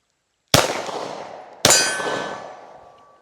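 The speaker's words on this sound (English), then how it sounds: "I'm gonna chamber the gun and see how it does." A PSA Dagger pistol, dirty from a mud and grease test, is chambered, giving two sharp metallic clacks about a second apart, each ringing briefly before fading, close by in an otherwise quiet space.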